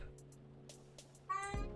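A house cat gives a single short, faint meow at close range above a quiet, steady hum.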